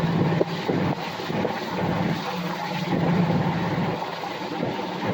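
A diesel project truck accelerates at full throttle with a steady, rumbling engine drone and wind noise, climbing slowly in pitch over several seconds.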